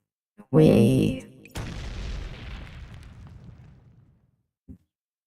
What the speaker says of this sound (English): The roar of the explosion and the white light are reduced to a monotonous noise.